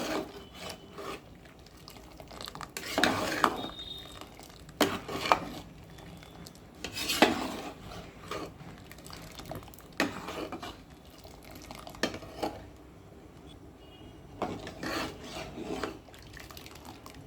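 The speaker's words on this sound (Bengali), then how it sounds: "চিনি, পেকটিন, জল, আমের রস সব মিশিয়ে আমি সমানে নাড়তে থাকবো।" Sugar, pectin, water and mango juice get stirred in a pot, producing intermittent rubbing and scraping strokes with soft wet sloshes, quiet and close, in irregular bursts.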